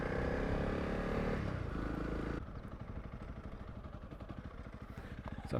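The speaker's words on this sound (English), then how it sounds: "Some proper sand riding that I'm doing now" A Honda CRF 300 Rally motorcycle ridden on sand, its single-cylinder engine droning steadily up close, then dropping to a lower, pulsing chug over rough ground with wind noise.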